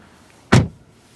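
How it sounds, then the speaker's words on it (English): A single solid thud as a door shuts on a 2026 Mercedes CLA 180 AMG Plus hybrid, heard close and short against quiet surroundings. "Let's close the doors."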